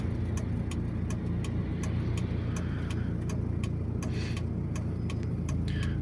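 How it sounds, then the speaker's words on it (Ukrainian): A car's left turn indicator ticks steadily and faintly inside the cabin during a driving route in Bucha, even clicks repeating over a low engine and road hum. "вмикаємо лівий покажчик повороту"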